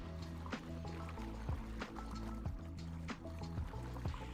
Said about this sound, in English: triggers a rush of water through the pipes